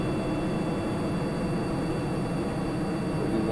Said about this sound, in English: our engine's probably going to die out because of the lack of atmosphere